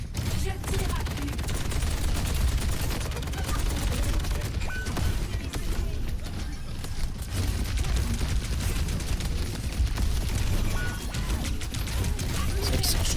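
Gunfire from the Overwatch video game, a steady dense barrage of shots over a loud game mix lasting the whole stretch, with some speech mixed in.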